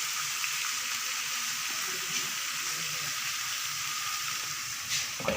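Chicken steam roasting in a covered pan over very low heat, a soft, steady hiss and gentle sizzle that holds evenly throughout, faint and close with no talking.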